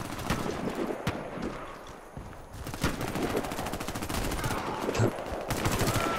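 Rapid gunfire crackles in a video game, with dense bursts of sharp shots and sparse single pistol cracks over a constant noisy mix, loud and close.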